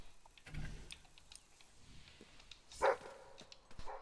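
A dog in the video game Fable 3 gives a single short bark amid quiet game ambience, with a few faint clinks and rustles around it.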